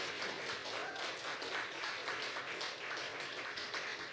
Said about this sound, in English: Please give a big round of applause to all of our storytellers.